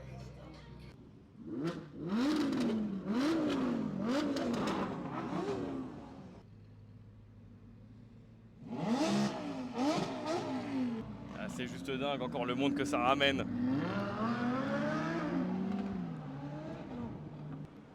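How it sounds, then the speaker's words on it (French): A group of supercars gathered for a large street meet rev their engines as they set off together, with loud rising revs and bursts under excited talk from a nearby man and a crowd. "ça va être le départ de toutes les voitures"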